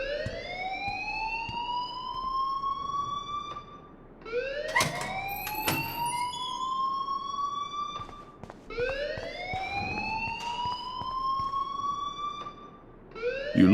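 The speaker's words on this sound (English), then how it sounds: "please turn off that alarm since that's your job" Alarm ringing in the video game Life is Strange: a loud wailing tone sweeps upward in repeated cycles of about four seconds, with sharp electronic blips layered on top and no talking.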